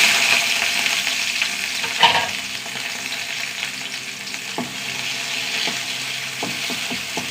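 Sliced small shallots fry in hot oil in a pan, giving a steady sizzle broken by a few sharp stirring knocks and scrapes, close and fairly loud, with no voices.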